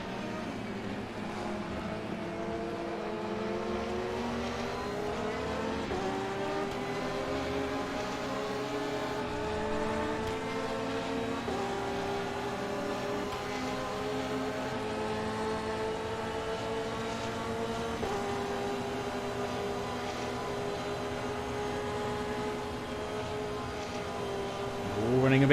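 Onboard Ferrari sports prototype lapping the Spa circuit in a six-hour endurance race: a continuous loud engine howl that climbs and drops through gear changes, with no talk.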